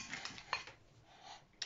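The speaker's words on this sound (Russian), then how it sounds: "И хорошенько размешаем." A spoon stirs a garlic and spice filling in a bowl, giving a few faint clinks and scrapes close by in a quiet room.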